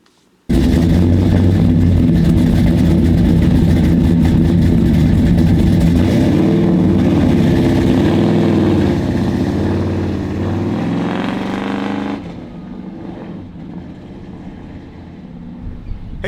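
A 1955 Chevrolet Bel Air pro touring hot rod engine starts up abruptly and holds a loud, deep, steady rumble for about twelve seconds, then drops to a quieter idle. No voices are heard.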